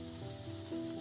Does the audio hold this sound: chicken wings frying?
yes